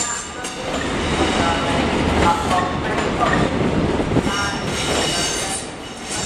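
An HST passenger train runs past close by, a steady loud roar of wheels and rail noise with faint clicking and squeal across the whole stretch, fading slightly at the end.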